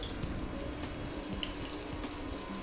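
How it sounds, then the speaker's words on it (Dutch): Water runs steadily from a kitchen tap, filling for boiling, a constant close splashing hiss with no voices. "Dus ik ga nu even water koken."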